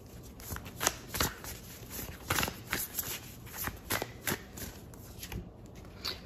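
Tarot cards are shuffled and pulled by hand, a close run of quick papery riffles and soft slaps in irregular bursts, with no talking.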